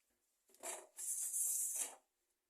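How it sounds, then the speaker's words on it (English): Chalk or marker writing being erased from a board during a maths lesson, a few brisk rasping rubs in short bursts, close and clear with no talking. "Let me just erase here."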